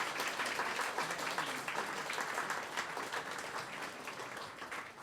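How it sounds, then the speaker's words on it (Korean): A church congregation applauds during a Sunday service rite, steady dense clapping filling the room at even volume throughout, no voices over it. "박수로 응원해 주세요."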